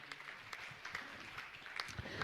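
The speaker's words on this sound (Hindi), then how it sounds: "आप जोरदार ताली बजाकर इनका सम्मान करें" Audience applause at a Jain religious gathering honoring a guru, with dense, steady clapping from a crowd throughout, fairly faint and without speech.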